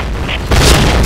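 Grenade blast in the shooter game Point Blank, a short loud booming burst that swells after a brief lead-in of game noise and holds as a rumbling roar.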